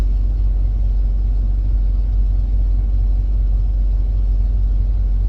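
Truck pulling a trailer rumbles along the road, a steady deep low-pitched drone from inside the cab with no voices.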